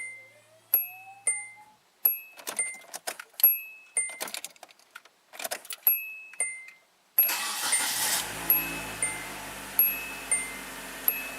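A door-open chime dings repeatedly before a 1996 Nissan Altima's engine cranks and catches, then settles into a steady close idle while the chime keeps sounding. No one speaks.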